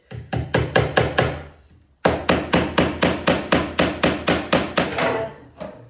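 A hammer drives long tacks into wood in a steady rapid series of sharp knocks, a short run, a pause, then a longer run of about a dozen even blows, close and clear.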